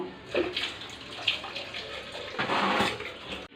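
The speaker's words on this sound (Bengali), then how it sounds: "বালতিতে রাখো কল খুলছো কেন" Tap water running into a bucket in a home, a steady broadband gush that swells louder toward the end before cutting off abruptly, with no talking over it.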